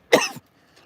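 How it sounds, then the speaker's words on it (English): A man gives a single short, sharp cough close to the microphone, followed by a faint breath. "coughing into the bloody camera here."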